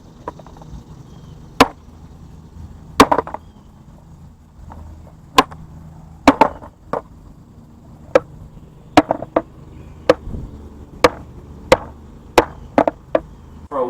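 Sharp wooden pops and slaps from a Walmart Darkstar skateboard, about twenty irregular cracks over the stretch, close and loud over a low rolling rumble, with no talking.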